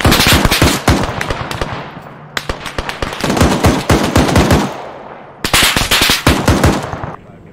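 Helicopter gunfire from an AH-64D Apache in ArmA 3 during a convoy operation in Fallujah: loud, rapid machine-gun bursts in three clusters of sharp cracks, with short pauses between them.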